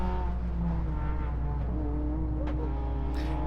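A white Honda Civic race car drives on a circuit, its engine holding a steady, loud droning note with harmonic whine, shifting pitch slightly as it runs, with no talking.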